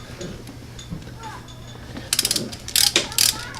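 Ratchet clicks from tightening a bolt on a Hyundai Sonata front brake job, a quiet background at first, then a few loud rapid bursts of clicking near the end.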